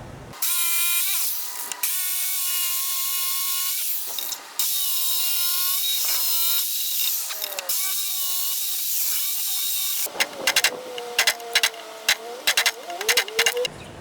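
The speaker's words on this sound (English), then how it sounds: "so now we're going to cut out the mortises with the jigsaw" A power jigsaw cuts out wooden mortises for a simple mortise and tenon bench, its steady whining drone running in long bursts separated by short pauses, then turning choppy with rapid stops and starts near the end; no voices.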